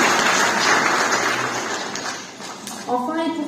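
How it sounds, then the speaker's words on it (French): An audience applauds at the opening of the 21st FICAM international animation film festival in Meknes. The clapping is steady and fairly close at first, then thins out as a voice begins speaking near the end. "je crois qu'on peut applaudir le festival"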